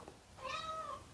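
A domestic cat gives a single drawn-out meow of about half a second, close and clear over quiet room noise, with no talking.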